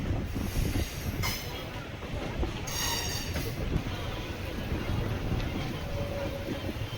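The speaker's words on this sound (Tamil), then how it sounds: "சென்னை பீச் டு திருமால்பூர் போற சப்பர்பன் ட்ரெயின் தாம்பரம்ல இருந்து டிபார்ட் ஆகுது." A Chennai Beach to Tirumalpur suburban train rolls out of Tambaram station, with a steady rumble of wheels, brief high metallic squeals, and faint clatter, heard from nearby.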